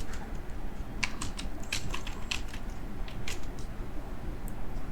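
Light, irregular clicks of typing on a computer keyboard, quick taps in small clusters over a steady low background hiss, fairly close and moderately quiet.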